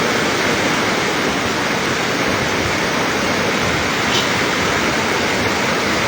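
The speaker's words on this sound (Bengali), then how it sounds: "সেই জলকপাট দিয়ে কিন্তু হু হু করে বেরিয়ে যাচ্ছে তিস্তা নদীর পানি।" A powerful, continuous roar of the Teesta River in flood rushing through the Teesta Barrage gates, loud and unbroken.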